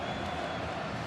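Dense, steady roar of a large stadium crowd at a World Cup football match between Azerbaijan and Romania in Baku, a continuous close wash of noise with no breaks.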